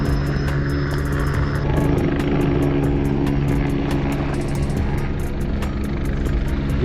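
Near a sailboat on the Adriatic Sea, a helicopter's rotor chops steadily, loud and close, over a constant engine drone.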